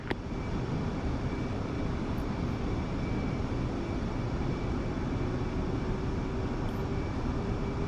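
F-15C jet engines in the DCS combat flight game, a steady, loud whine and roar while the aircraft taxis, with one engine spooling up, holding even throughout with no talk.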